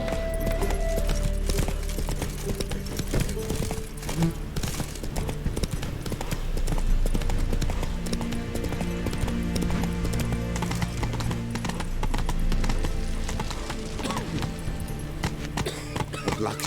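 Roach, a horse in The Witcher 3, gallops with a steady, close clip-clop of hooves over game music, with a brief whinny along the way.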